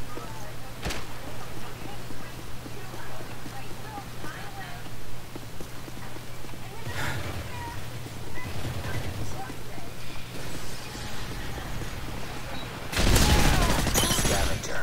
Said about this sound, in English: Who the fuck is shooting a shotgun?